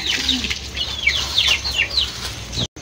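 Chickens kept at home, with a run of rapid high chirping calls close by over steady background noise, cut off abruptly near the end.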